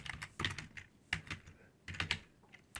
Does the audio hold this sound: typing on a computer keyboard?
yes